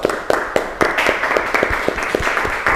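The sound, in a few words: applause for group 1 after their presentation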